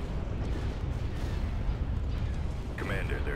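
Rumbling starship weapons fire and blasts fill a Star Wars space battle in a video game, a dense continuous barrage with brief radio chatter near the end.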